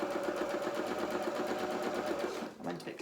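A sewing machine runs a seam through fabric for a Marcel dress, a fast steady close whir of stitching that stops near the end, with a voice speaking over it.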